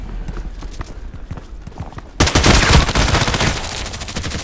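A gunshot fires in the online shooter Contract Wars, a sudden loud broadband burst followed by a rattling, sustained volley of shots that stays strong before easing slightly, after a quieter stretch of low game ambience.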